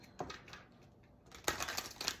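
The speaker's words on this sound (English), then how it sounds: "Let's give it a shuffle" Tarot cards shuffled by hand, heard as quiet close riffling and rustling that swells into a brisker, louder burst of card noise toward the end.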